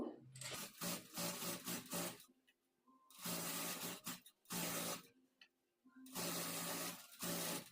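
An electric sewing machine stitches a churidar sleeve in rapid whirring bursts of a second or two each, separated by short pauses, running close and fairly steady with no talking during the runs.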